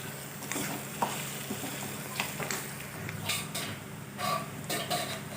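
Radish curry sizzles steadily in a pan while a spoon stirs it, giving a continuous frying hiss broken by intermittent scraping and tapping against the pan.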